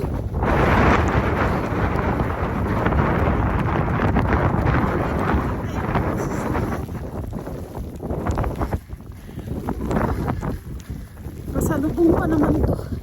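Strong winter snowstorm wind in Edmonton, Canada, roaring and buffeting the microphone in loud, continuous gusts that ease briefly near the end before surging again, with a voice occasionally speaking over it.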